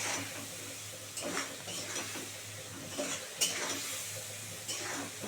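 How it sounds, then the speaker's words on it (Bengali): Tomato and spices sautéing in a pan while being stirred, a steady low sizzle broken by repeated scraping strokes and light clinks of a utensil against the pan, close by with no talk. "আর টমেটোটা দিয়ে দিচ্ছি এবার এটা শুধু দু মিনিট ধরে খুব ভালো করে কষাতে হবে"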